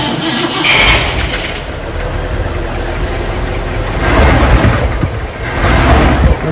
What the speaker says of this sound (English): startup video for a 1958 Cadillac Eldorado Brougham.